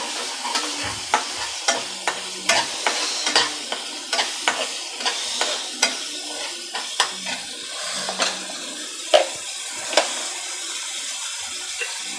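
Ginger, garlic and coriander paste sautés in a pan with a steady wet sizzle, punctuated by a regular run of spatula scrapes and taps roughly every half second, close and clear, with no talking.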